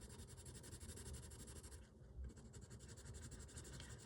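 Coloured pencil pressed hard and moved quickly across paper, a continuous close scratchy rubbing with a brief pause midway.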